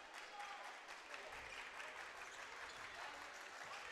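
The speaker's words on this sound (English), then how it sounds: "Aggressive clapping over there by the Firebirds" Fans of the Firebirds at a high school boys basketball game clap hard and fast from the stands, a faint, distant rattle of applause under the hum of the gym crowd.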